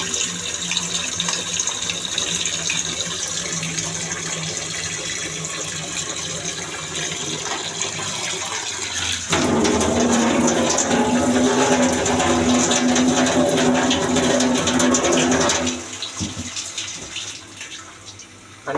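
Water runs steadily from a kitchen tap, splashing loud and close into a vessel; the flow grows stronger partway through, then eases off near the end. No talk.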